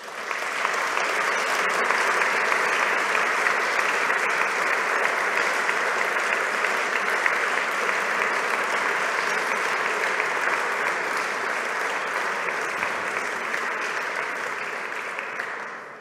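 A large audience at a prize ceremony gives sustained, dense applause that holds steady and loud for about sixteen seconds before tapering slightly at the end.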